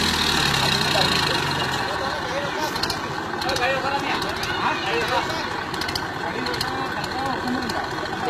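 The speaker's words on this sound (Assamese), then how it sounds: "গাড়ী এইবাৰ পানীৰ ভিতৰত চলাইছে" A tractor engine rumbles steadily as it drives through floodwater on a road, heard up close beneath continuous talking.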